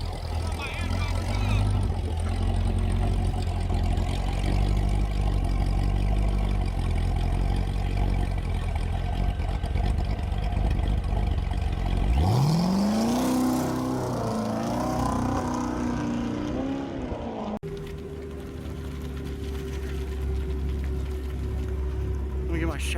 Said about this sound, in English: John loves his burnouts.